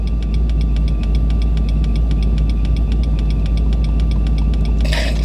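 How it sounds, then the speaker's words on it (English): Turn signal blinker in a supercharged C5 Corvette stopped at a traffic light, ticking in a steady repeating pattern over the low, constant rumble of the idling engine. "listen to how sporadic the blinker is"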